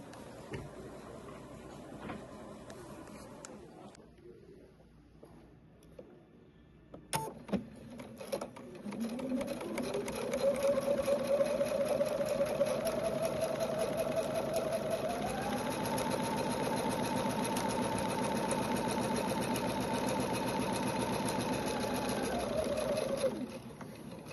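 A sewing machine stitches a pinned quilt block for a ghost-themed sawtooth star, starting after a few quiet seconds and then running as a steady whirring hum near the mic, with a rise in pitch partway through, before stopping.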